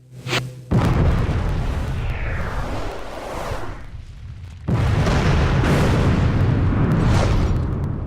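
Explosions in the Jak 2 video game: two loud, close booms, each followed by a sustained roaring rumble that fills the scene.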